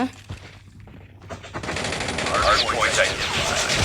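Gunfire in the video game Call of Duty opens after a quiet start with scattered shots, then swells into dense, continuous automatic bursts, loud and close, with a voice heard faintly underneath.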